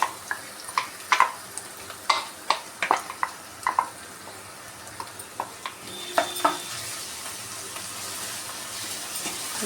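Onions frying with a ginger, garlic and green chili paste in a pan, with irregular scraping stirs and taps over a soft continuous sizzle.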